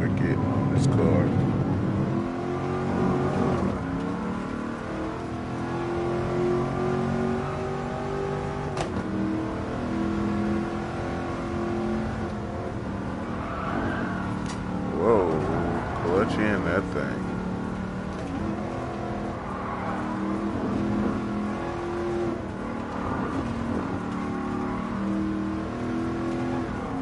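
A classic dream car in GT Sport at the Nurburgring, its engine held high and steady near the rev limiter, a continuous close drone with slight rises and dips while someone talks over it.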